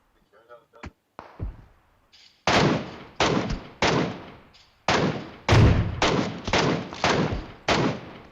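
Loud gunfire in PUBG Mobile: about eight heavy, close shots in an irregular rhythm, each with a short booming tail. A few faint, brief sounds come before the first shot.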